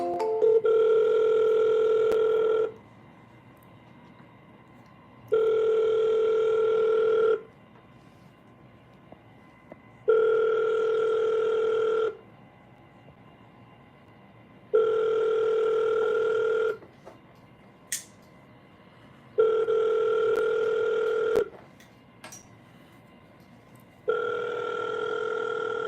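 A telephone rings repeatedly while calling a seller, six long even ring tones separated by short pauses, clear and steady with no talking.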